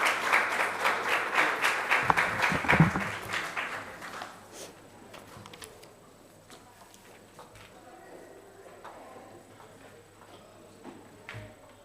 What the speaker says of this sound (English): Likwankosi, can we give her a round of applause?